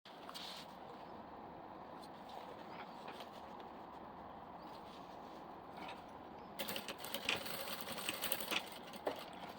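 A sewing machine runs a steady, faint stitching whir while sewing a diaper bag with a portable changing pad, growing slightly louder and busier with clattering mechanical taps toward the end.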